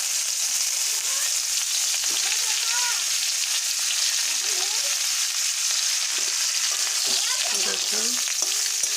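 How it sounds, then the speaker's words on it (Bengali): Cauliflower florets frying in oil in a pan, a steady bright sizzle with crackling pops throughout, near and fairly loud, with brief faint voice-like sounds in the background. "এখন আমি একটু ফুলকপিগুলো ভেজে নেব।"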